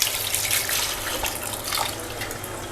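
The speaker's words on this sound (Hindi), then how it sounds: "इसको अच्छी तरीके से धोने के बाद हम इसको इसी चालनी में रखेंगे ताकि इसका पानी जो है वो अच्छी तरीके से ड्राई हो जाए" Raw chicken being washed under running tap water in a kitchen, a steady close splashing stream with irregular spatters as the meat is rinsed, no talking.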